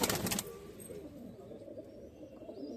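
Pigeons coo softly in a breeding loft in Amravati, Maharashtra, a low steady murmur of birds close by, with a brief burst of louder noise at the start.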